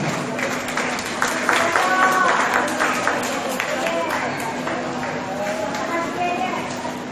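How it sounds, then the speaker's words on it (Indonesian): Audience clapping at an interfaith talk show event in Indonesia, moderate and somewhat uneven, with voices and crowd murmur mixed in throughout. "Kita berikan tepuk tangan."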